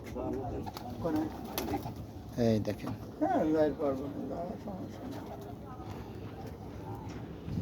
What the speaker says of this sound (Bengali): বিশেষ করে জাহাজের কবুতরগুলো আরো সুন্দর